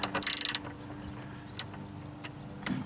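A ratchet wrench clicks rapidly as it tightens a 13 mm nut on the upper engine mount of a 2000–2007 Ford Taurus, a short burst of close ticking followed by a single metallic tap and a faint rustle.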